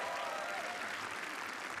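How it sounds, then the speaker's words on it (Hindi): Applause from a crowd at a comedy roast show, a steady wash of clapping that is faint and somewhat distant, with no break across the short stretch. "एक बार ब्रो कोड के लिए तालियां."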